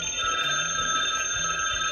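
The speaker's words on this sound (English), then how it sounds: "The visible phone in the background rings and the visible worker answers." An old-fashioned telephone bell rings continuously in a film scene set in a newspaper office, a bright, steady metallic trill filling the short stretch with no voices.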